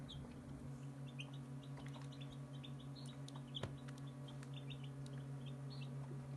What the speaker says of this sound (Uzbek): Bu esa burungi jo'jalar.